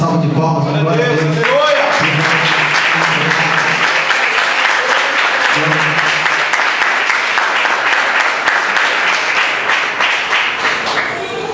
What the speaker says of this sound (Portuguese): Irmão, se puder dar uma salva de palmas, glória a Deus.